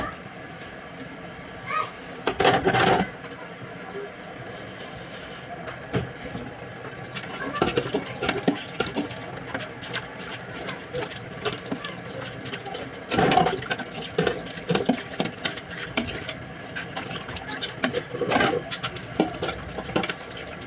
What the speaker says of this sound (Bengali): তো এই তো থালাবাটি মাজতে চলে আসলাম।